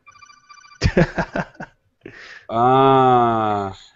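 A phone rings loudly up close: a short burst of clattering, bell-like chirps, a pause, then a long sustained electronic tone.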